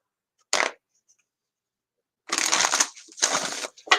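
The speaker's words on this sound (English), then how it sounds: "so get a fresh deck here, fresh shuffle" A fresh deck of tarot cards being shuffled: one short riffle burst near the start, then after a pause three longer papery shuffling bursts close by, with no talking.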